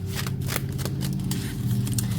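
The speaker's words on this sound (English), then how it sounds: "It shuffles quite nicely." Tarot deck being shuffled by hand, the slippery cards giving a run of quick riffling rustles and soft slaps against a steady low hum in the background.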